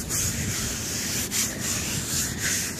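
A furniture shifter is dragged across a sand castle base to smooth it, giving a soft, continuous gritty rubbing with slight rhythmic swells, close but fairly quiet.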